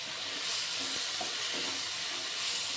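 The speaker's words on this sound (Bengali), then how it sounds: "খুব ভালো করে নেড়ে চেড়ে ভেজে নেব।" Tomato and onion stir-fried with turmeric powder in a pan, a steady bright sizzle with a few soft stirring scrapes, close and continuous with no voices.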